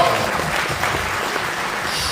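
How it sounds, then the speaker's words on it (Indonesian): Seminar audience applauding a priest, a brief continuous wash of many hands clapping, moderately loud and even. "tepuk tangan untuk Romo Otong"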